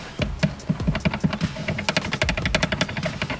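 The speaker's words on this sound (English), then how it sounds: "It's got a rattle to it" Short throw shifter on a Ford Focus rattling as it slides onto the shift lever, a quick run of close, sharp clicking taps in an irregular rhythm, fairly loud with no talking.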